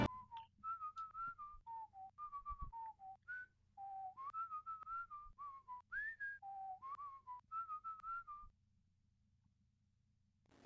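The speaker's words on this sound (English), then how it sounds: "He asks to whistle you an old gnomish tune" A short gnomish folk tune whistled by a traveling visitor in the strategy game Warsim, a clear melodic line of many quick notes with brief pauses, steady and alone until it stops near the end.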